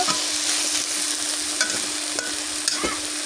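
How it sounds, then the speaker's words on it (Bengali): Jute leaves (pat shak) stir-fry in a pan with a constant close sizzle, punctuated by occasional scrapes and knocks of the stirring spoon, with no talking. "এই শাক আমি লাল লাল করে ভাজিনি"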